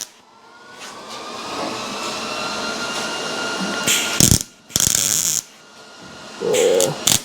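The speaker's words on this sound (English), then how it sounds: "once I clean it up with the flap disc" An abrasive flap disc grinds down tack welds on a Camaro body panel, a steady rough whir that runs several seconds before bursts of harsher grinding and pauses between passes.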